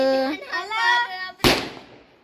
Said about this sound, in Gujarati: આજે વધ્યા ઘટ્યા ફટાકડા પાછા ફોડી રહ્યા છે